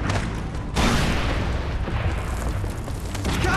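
Cannon fire in the video game Far Cry 3: a heavy boom bursts out early, followed by a continuous loud rumble of explosions and battle noise, with no talking.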